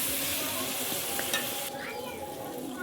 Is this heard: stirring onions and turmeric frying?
yes